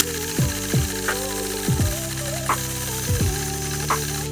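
A sewing machine stitches free-motion quilting lines in short bursts, its motor whining up and down in pitch with brief pauses between runs, close and moderately loud.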